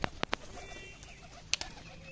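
A female desi Giribaz tumbler pigeon beats its wings in flight, giving a few sharp, close flapping bursts, two quick ones early and another later, over a faint steady background.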